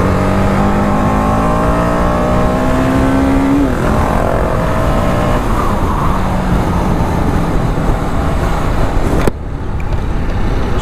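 Sport motorcycle exhaust revs loud and close, its pitch climbing and falling through repeated throttle blips before cutting off abruptly near the end.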